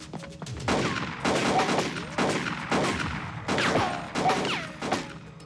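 Rapid bursts of gunfire aimed at bulletproof glass, loud and close, arriving in repeated clusters of sharp shots with brief gaps between volleys over several seconds.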